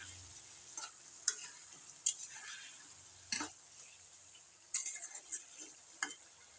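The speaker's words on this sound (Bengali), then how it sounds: "ভালো করে এখানে নাড়াচাড়া করে নেব একদম কষে নেব যতক্ষণ না তেল ছাড়ে ততক্ষণ এটা ভালোভাবে কষে নেব আমি" Chicken with spices and tomato being stirred and fried in a pan, a soft low sizzle broken by sharp clinks and scrapes of a spoon against the pan at irregular intervals.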